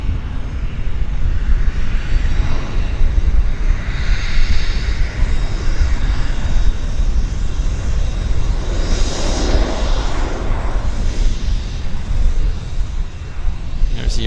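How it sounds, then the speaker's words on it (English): Air Canada Boeing 787 Dreamliner jet rumbling at an airport, a continuous broad engine roar at moderate distance with a rising and falling whine, no voices heard. "There's the Air Canada heading to Toronto."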